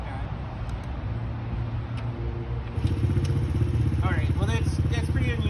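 A 2014 Honda CRF50F dirt bike engine runs close with a steady putter, then rises in pitch and volume as the throttle opens midway and the revs stay up; faint noise sits in the background.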